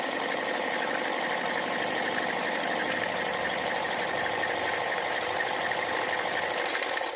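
An electric sewing machine stitches a suit at home, a steady, continuous mechanical whir and rapid needle clatter running evenly throughout at close range, with no talking.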